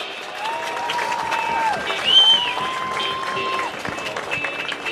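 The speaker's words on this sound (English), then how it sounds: "Please applaud for Declan Piscatello." A high school football crowd applauds a Richland Rams player at a home game against Chestnut Ridge, a moderate spread of clapping from the stands, with sustained tones ringing through it.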